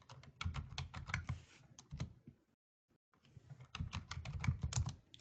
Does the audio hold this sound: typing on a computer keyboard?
yes